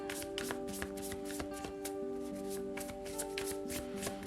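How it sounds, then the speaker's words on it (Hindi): Tarot cards being shuffled by hand, a rapid run of crisp riffling slaps and taps repeating throughout, close and clear over a faint tonal background hum. "तो चलिए शफल कर लेते हैं कर्क राशि कैंसर साइन के लिए।"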